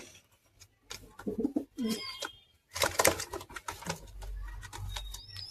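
Fancy pigeons of a racing breed give soft, throaty coos in short bursts, with wing flaps and shuffling nearby, close up and without talking.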